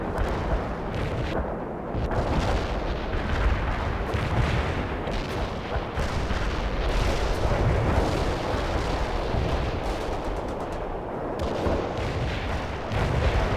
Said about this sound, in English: Launching a barrage.